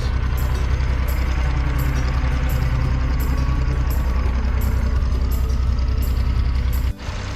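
A tractor engine runs steadily beneath a chicken house on a Swedish farm in Värmland, a loud, continuous low-pitched rumble with a regular pulsing beat, close by, with a brief dip near the end.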